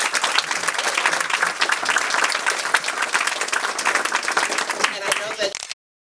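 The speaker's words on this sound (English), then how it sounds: "I'd like to ask you to join me in giving them a round of applause for the work that they've done." Guests at a nursing pinning ceremony luncheon give a sustained round of applause, dense steady clapping with scattered voices mixed in, ending abruptly near the close.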